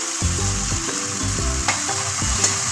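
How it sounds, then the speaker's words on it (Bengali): Coriander-topped spice masala frying in oil for an egg kofta curry, stirred with steady sizzling and repeated scraping strokes against the pan, close and clear with no voices. "এবার আমি অল্প করে জল দিয়ে মশলাটা একটু কষিয়ে নেবো"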